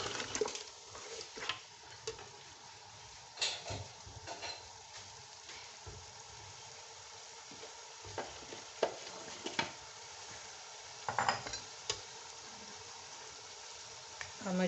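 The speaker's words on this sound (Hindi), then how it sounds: "अब मैं इसमें चावल डाल रही हूँ।" Rice pours into a cooking pot for white pulao with scattered clinks and scrapes over a soft, continuous sizzle, close up and fairly quiet.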